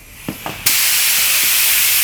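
An HPLV sprayer starts up with a couple of soft clicks, then lets out a sudden, steady, loud hiss of fluid spray that holds without a break.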